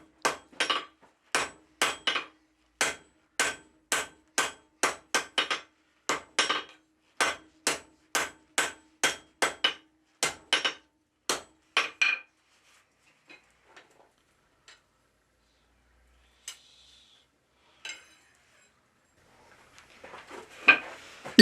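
A hammer forges a steel bar, drawing it out in preparation for a forge weld. The loud, ringing blows come close together in a steady rhythm for about twelve seconds, followed by a few scattered quieter taps and clanks.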